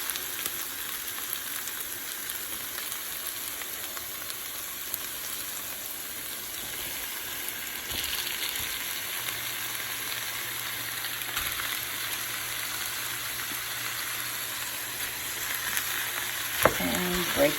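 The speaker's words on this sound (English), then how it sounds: "Break down the ground beef nicely" Ground beef frying in a pan over caramelized ingredients, a soft continuous sizzle with occasional scraping and stirring knocks as it is broken up, quiet and close, with a louder clatter near the end.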